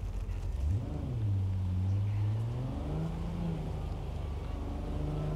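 A car in the video game Cyberpunk 2077, played on an Xbox Series S, drives off with a loud, steady engine drone whose pitch rises and shifts as it pulls away, alone without talk.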